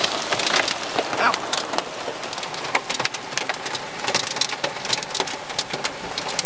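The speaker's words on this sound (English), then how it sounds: "And some pea-sized hail." Pea-sized hail pelts down during a storm south of Manheim, Pennsylvania, a dense, steady patter of hits on surfaces close by, with sharper individual clicks scattered through the constant wash.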